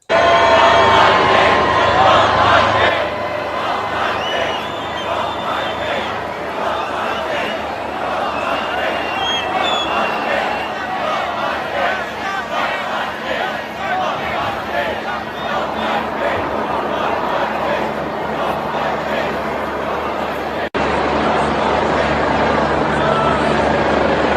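Large crowd gathered outside at a coronation, a broad continuous roar of many voices with a louder burst of cheering at the start and again near the end.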